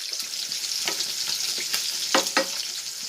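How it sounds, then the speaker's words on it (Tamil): Fish curry (meen kuzhambu) with tomato, green chilli and salt bubbling in a pot, giving a steady close hiss with a few sharper pops and crackles over about three seconds. "மீன் குழம்பு கொதிக்கட்டும்."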